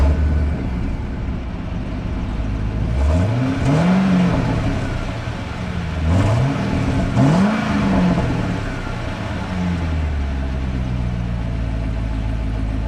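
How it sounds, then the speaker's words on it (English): A Corvette V8 engine cranks and starts twice, each time rising in a brief rev before settling into a low, steady idle rumble. "Was that not the quietest Corvette startup you ever heard in your life?"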